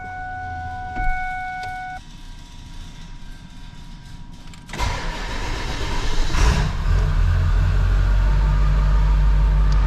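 A cold diesel engine with glow plugs cranks and fires up after a few quiet beeps and clicks, then settles into a loud, steady running rumble that continues to the end.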